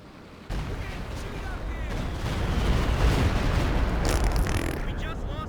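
A Stuka dive bomber strike explodes in Company of Heroes 2, a sudden loud blast that builds into a sustained rumbling roar of detonations and debris, with a sharper crackling flurry near the end.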